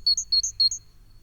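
A common chiffchaff sings, three quick bright phrases of high, thin chirping notes close by, each a short two-note burst, over a faint low rumble of background.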